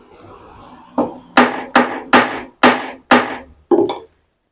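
A 100-gram ball-peen hammer taps pliers to take up play in the joint: seven sharp, loud metallic knocks at roughly even half-second intervals, each ringing briefly before the next blow, with no talking.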